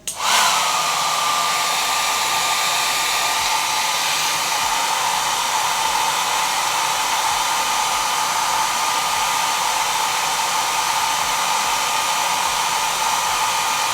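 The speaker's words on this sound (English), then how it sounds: "with my blow dryer in a cool setting, same thing, I just push down the lace" A handheld blow dryer on its cool setting, aimed at the lace edge of a frontal wig, gives a loud, steady whooshing whir close by, unbroken for the whole stretch with no talking.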